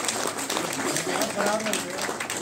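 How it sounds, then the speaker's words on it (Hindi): Steady applause from an audience at a Delhi-NCR performing championship honour ceremony, dense and continuous, with a voice speaking over it throughout. "तालियां नहीं रुकनी चाहिए प्लीज।"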